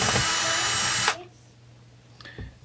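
A power driver whirs loudly for about a second as Allen bolts come out of the ignition coil on a Husqvarna 455 Rancher chainsaw, then stops, followed by a brief light metallic click.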